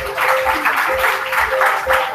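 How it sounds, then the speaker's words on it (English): Audience applause at a book reading, a steady wash of clapping filling the room for the full stretch at a fairly loud level, with a few voices faintly underneath. "Please give him a round of applause."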